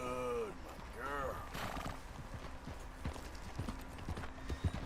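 Horses in the Western video game Red Dead Redemption 2 neigh and whinny, then their hooves clip-clop steadily over the ground, with game music and ambience underneath.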